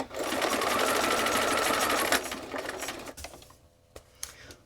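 Sewing machine running steadily for about two seconds at a fairly loud, close level, then slowing and stopping, followed by quieter mechanical clicks and handling sounds.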